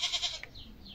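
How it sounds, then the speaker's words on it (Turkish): A young goat kid in a Turkish village bleats in three quick, wavering pulses, fairly close and clear, followed by faint background chirps. "Amcam gidin, oğlak sesini duyuyor musunuz?"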